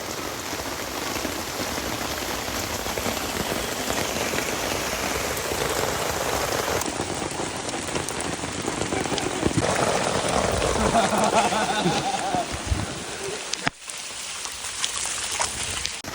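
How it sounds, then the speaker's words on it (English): Heavy rain pours steadily onto a tent at a flooded campsite during a cycling trip across Ontario, a dense, constant patter on the fabric that shifts in intensity, with a brief dropout near the end and people speaking under it. "I think it's raining under your tent."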